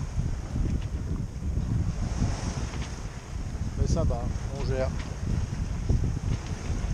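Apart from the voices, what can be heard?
wind while sailing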